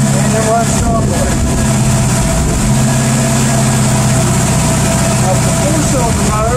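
Car engine idling in 4-cylinder mode during a fuel and spark test: a loud, steady, even running drone close by with a constant low throb and no revving, while a person talks over it.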